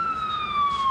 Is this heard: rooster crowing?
no